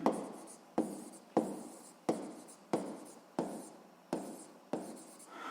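Handwriting with a pen on paper, about eight distinct close scratching strokes spaced roughly every three quarters of a second, quiet and with no talk over it.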